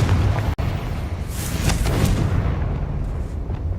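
Blasting spell explosion in the video game Hogwarts Legacy, a loud sustained booming rumble with a brief cutout near the start, then continued dense noisy blast energy fading slightly toward the end.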